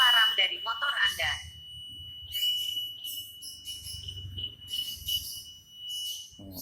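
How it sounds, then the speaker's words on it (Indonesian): A WiFi Smart Motor V1 smart alarm on a motorcycle emits a steady, thin high-pitched electronic tone that runs continuously, faint to moderate in level, while a person talks over it and short chirping bursts come and go. "Dengarkan bunyi alarm dari motor Anda."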